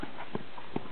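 A few hollow hoof clops land at uneven intervals, fairly quiet, with a dull steady background and no voices.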